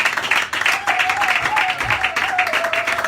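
Church audience applauding to welcome an apostle, a dense continuous wash of clapping and crowd noise throughout, with a sustained tone running beneath.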